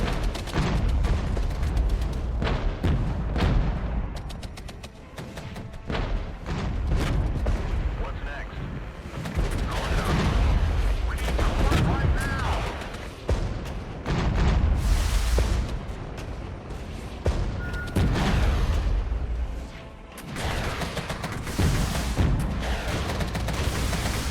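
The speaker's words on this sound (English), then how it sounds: "These are just mortars as well." Mortar fire in the Regiments video game: repeated deep booms and crackling blasts, some near and heavy, others distant, rolling on without pause as someone talks over the barrage.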